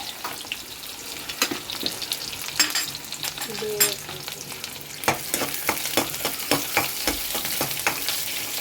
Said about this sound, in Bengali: তেলের মধ্যে কাঁচা লঙ্কা দিয়ে দিলাম দিয়ে দিলাম পেঁয়াজ কুচি